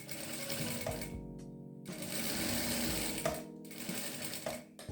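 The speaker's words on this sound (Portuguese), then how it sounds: "a gente costura aqui e a gente vai costurar até um centímetrozinho aqui" A sewing machine stitches a crazy-patchwork fabric coaster, its motor whirring in steady close bursts that stop briefly and start again.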